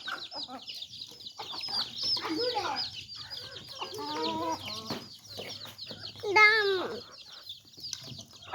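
Chickens cluck repeatedly in a rural yard where goats are also kept, the bursts of clucking coming close and clear with voices talking in the background.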